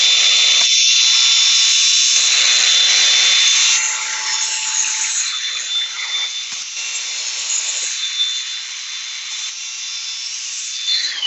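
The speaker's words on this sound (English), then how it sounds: "You just simply run the bench grinder about 3 or 4 times per side." A bench grinder sharpens a zero turn lawnmower blade in steady passes, a harsh continuous metallic whine that stays loud, eases a little partway, then carries on grinding without talk.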